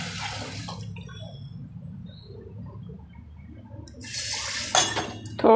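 A buttermilk mixture is poured into a pot for Rajasthani bajra flour kadhi, giving a steady low liquid gurgle and bubbling, followed near the end by louder splashes and clinks close by.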